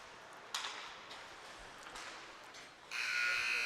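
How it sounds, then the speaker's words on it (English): A short electronic buzzer ends the first period at an ice hockey game, sounding after a few faint taps and crowd noise, holding a steady tone loud and clear to the end. "And the buzzer sounds, ending the first period."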